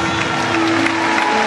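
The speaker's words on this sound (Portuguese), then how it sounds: "para ele uma salva de palmas" An audience claps in a dense, continuous wash of applause, with faint crowd noise and a steady tone underneath.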